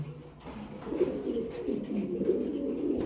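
Pigeons at a breeding farm coo in low, soft, continuous rolling calls, close by and fairly quiet, several birds overlapping.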